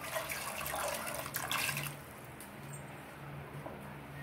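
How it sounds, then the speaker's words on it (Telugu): Water pours steadily over peas and potatoes in a pot for chaat, a loud splashing rush for about two seconds that gives way to a quieter trickle. "ఇప్పుడు ఈ బఠానీలు మునిగే వరకు వాటర్ వేసుకుందాం."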